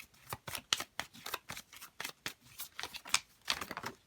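Tarot cards being shuffled by hand, a quick run of crisp riffling and flicking bursts with sharp card snaps, close and fairly quiet, with no talking.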